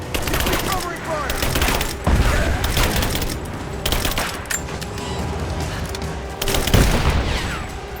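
Gunfire in Rise of the Tomb Raider: dense bursts of rapid shots and heavy booms come in waves, loud and close, with distinct spikes of louder impacts through the eight seconds.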